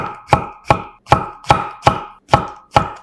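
A knife slices shiitake mushrooms into 0.3 cm slices on a cutting board, eight crisp, evenly spaced chops close up with nothing else heard.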